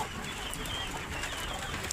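Chickens and roosters sheltering in a goat shed during rain cluck and call faintly against a steady hiss of falling rain.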